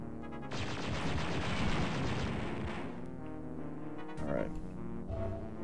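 Sustained automatic turret gunfire in a Star Wars game at a research facility, a dense loud burst lasting a couple of seconds, then lower rumbling game noise with a brief crack afterward.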